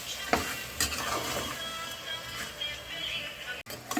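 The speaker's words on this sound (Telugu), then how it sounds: "ఇవి వేసి చక్కగా మొత్తం మసాలా అంతా ముక్కకు పట్టేదాకా కలుపుకుందామండి." Mutton bones being stirred with masala in a pot, soft scraping and clinking of a spoon against metal over a low frying sizzle, with a few sharper knocks, fairly quiet and close.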